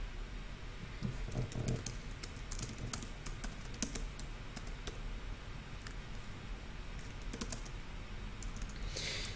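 Someone types on a computer keyboard, a run of quiet, close, irregular key clicks and taps over a low steady background hum, with no voices.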